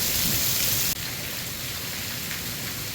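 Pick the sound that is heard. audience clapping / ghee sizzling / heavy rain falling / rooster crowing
heavy rain falling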